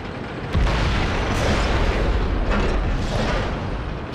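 Heavy tank cannon fire in World of Tanks clan wars, a deep sustained boom rolling on for several seconds after a sharp onset, loud and close with no talk over it.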